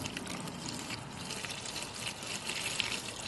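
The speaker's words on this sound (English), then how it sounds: "And that means first draining the tank." Gasoline drains from a weed eater's fuel tank in a steady, close liquid trickle that runs unbroken for the whole stretch, with no talking.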